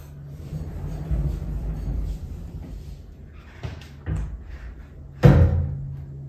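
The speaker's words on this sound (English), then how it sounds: "So when the door is shut" A heavy sliding barn door rumbles and thuds shut several times, with a final loud bang near the end over a low steady hum.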